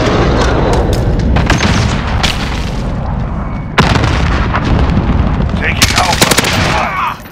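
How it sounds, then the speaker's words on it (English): Dense automatic gunfire and heavy booming explosions from a precision airstrike in Modern Warfare (2019), a PC multiplayer Domination match on the Piccadilly map. Loud and continuous, with sharp blasts and rapid bursts layered over each other. "Enemy precision airstrike inbound."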